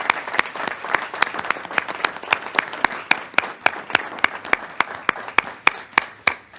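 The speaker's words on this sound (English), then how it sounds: "Let's give them a round of applause, please." Scattered applause at a school board of education meeting: a modest group claps in distinct, sharp, slightly uneven claps that carry on steadily from start to finish.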